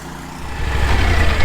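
A compact tractor with a mower clears rough ground in a wooded area. Its engine rumbles close and loud and swells toward the end of the short stretch.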